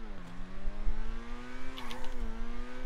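A front-wheel drive car in GTA 5 revving, its engine tone climbing and dipping through a smooth harmonic whine with a brief shift wobble, steady and close throughout.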